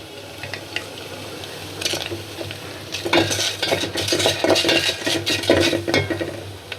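Shrimp cooking in a hot pot for a sour amra curry, with a steady sizzle under repeated metal utensil scrapes and clinks that grow busier and louder partway through, close by.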